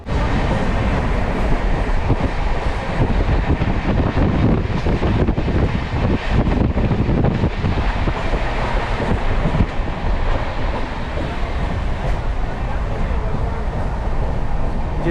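Kashi Express 15018, a passenger train running between Jalgaon and Nashik, gives a steady, loud onboard rumble with wheel noise and wind buffeting that continues without a break.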